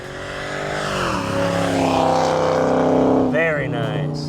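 A procharged 2010 Dodge Challenger drives down the road toward the listener. Its engine note swells and its pitch climbs and shifts as it approaches, loud and close, and a brief voice cuts in near the end.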